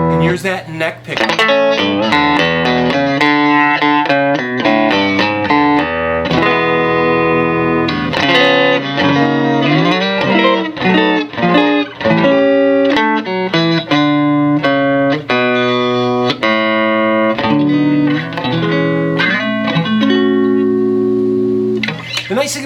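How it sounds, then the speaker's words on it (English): Fender Telecaster electric guitar played on its neck pickup through an amp, continuous loud melodic lines and chords with sustained ringing notes and light reverb, close and with no voices. "And here's that neck pickup."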